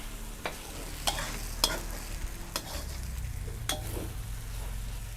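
Glass noodles being stir-fried in a pan with vegetables, kept dry rather than soggy: a steady close sizzle under repeated sharp scrapes and clacks of a spatula against the metal, spaced irregularly across the stretch.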